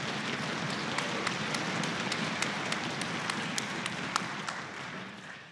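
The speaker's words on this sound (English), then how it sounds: "Give yourself a round of applause." Concert audience applauding after a high school orchestra's finale performance, a steady dense wash of clapping with a few sharper individual claps standing out, sustained throughout before tapering slightly at the end.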